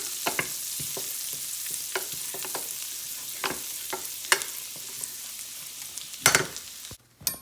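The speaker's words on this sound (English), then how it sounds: "Then add in the garlic. And then stir that up." Garlic frying in a pan while being stirred, a soft steady sizzle broken by repeated scraping taps of the utensil and a couple of louder clatters near the end.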